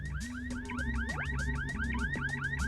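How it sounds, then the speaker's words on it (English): A rapidly repeating electronic alarm siren in the video game Bomberman Hero, with rising chirps over a low droning tone, loud and insistent throughout. "with that annoying siren in the background"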